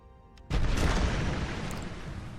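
Explosions destroy an enemy navy in the strategy video game Empires of Steel: a single deep boom hits suddenly after a quiet moment, then its rumble slowly fades away.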